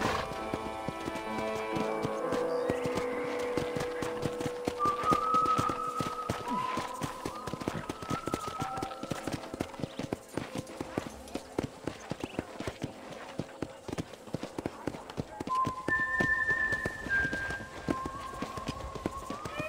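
Horse hooves clip-clop in a steady rapid rhythm throughout a Red Dead Redemption ride, with music tones drifting above and occasional faint talk.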